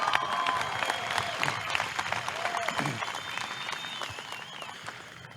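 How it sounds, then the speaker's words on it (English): A crowd claps steadily for the Los Angeles and Chinese Taipei teams at a Palomino World Series baseball championship, with scattered whistles and cheers over a continuous wash of applause. "So guys, one more time, please give these people a round of applause."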